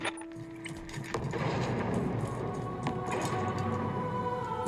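Guns fire in a Halo Infinite battle: a dense, sustained clatter of shots and booms, fairly loud and continuous, layered over a steady background rumble, with a tonal hum fading early.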